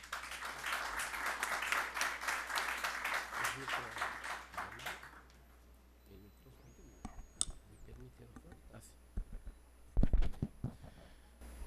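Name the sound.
applause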